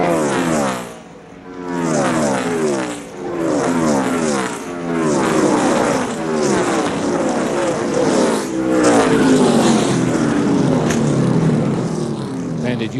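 A NASCAR Busch Series race car at speed on the track, with loud engine roar rising and falling in repeated sweeps as cars pass close by, sustained throughout with no talk.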